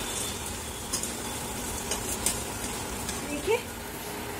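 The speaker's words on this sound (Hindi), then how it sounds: "देखिए हमारे दलियों को भूनते हुए" Broken wheat (dalia) roasts with onions in a pan, giving a soft, steady sizzle with occasional scrapes and light clinks as it is stirred, quiet and close, with a voice speaking over it.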